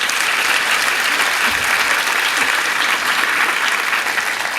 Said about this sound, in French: Donc, vous pouvez l'applaudir également.